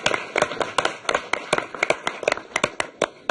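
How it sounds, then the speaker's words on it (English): City council members applauding in a meeting chamber: a small group's sparse, uneven claps, individual hand strikes clearly separable, close and fairly loud, with no talk over them. "So I'd ask members of council to provide a bit of a round of applause to say thank you for his work."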